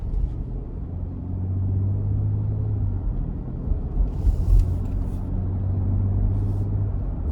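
A 2025 Nissan Armada SL cruises on the road, heard from inside as a steady low rumble of engine and tire noise with a brief bump midway and faint higher hiss.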